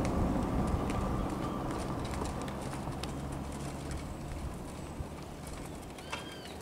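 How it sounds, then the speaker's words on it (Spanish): A Moro horse walks on a provincial road, its hooves clip-clopping at a steady gait amid outdoor traffic rumble, with birds calling faintly in the background. "Miren cómo marca el paso el moro."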